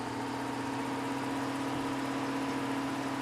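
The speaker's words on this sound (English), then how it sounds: "There's your idling sound." A steady, low tractor or farm vehicle engine idle in Farming Simulator 17 hums continuously at constant pitch, close and even, with no talking.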